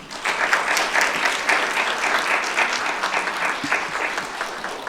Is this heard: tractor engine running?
no